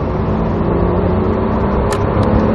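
Porsche race car on a racing school track, a loud sustained engine roar that stays strong and even throughout, with no speech.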